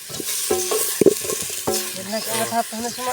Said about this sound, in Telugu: నేనైతే కలుపుతున్నాను